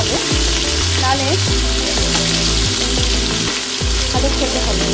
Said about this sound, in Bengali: পটলের মধ্যে সামান্য লবণ দিয়ে দেবো, দিয়ে পটলটাকে ভালো করে আমি ভেজে নেব